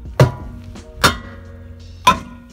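Three heavy hammer blows about a second apart strike a car wheel during a wheel swap on a Ford Fiesta ST, loud, close and dull-sounding, each ending with a short ringing note.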